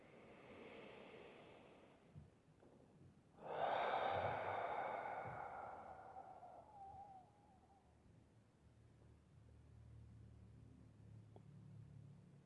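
One deep, slow breath during a guided meditation, with a long, soft exhale drifting off into quiet room tone.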